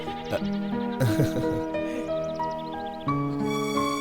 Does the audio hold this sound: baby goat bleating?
yes